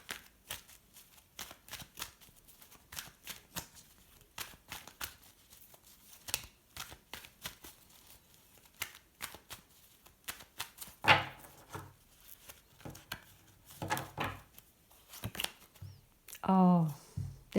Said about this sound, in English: So let's pull one final card just to close this read.